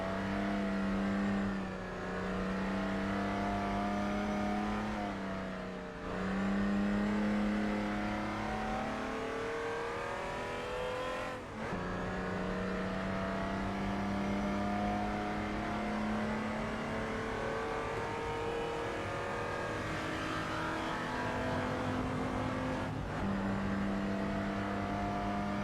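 Ferrari engine in a racing video game, a steady high revving drone that climbs through the gears with brief dips at each shift, continuous and close.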